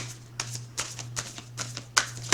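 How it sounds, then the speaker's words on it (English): Tarot cards being shuffled close up in quick, irregular riffles and slaps, each burst brief, over a faint steady electrical hum. "Let's see who we're shuffling for first."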